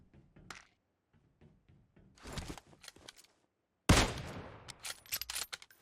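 Gunfire in the mobile shooter PUBG Mobile, played on an emulator: scattered quiet shots and clicks early, then a louder cluster of bursts, and a sharp heavy report near the end followed by a few more shots, no speech.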